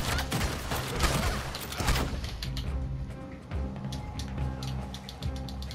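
Gun reloading in the Red Dead Online video game, with mechanical clicks and clacks from a side arm during a firefight, set against dense gunfire noise that fades after the first two seconds into quieter metallic handling.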